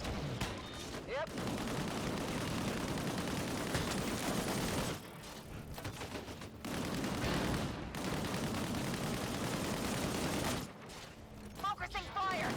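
Sustained automatic gunfire and firefight noise in the video game Disintegration, dense bursts running nearly continuously with brief lulls, loud and close, with voices talking over the shooting.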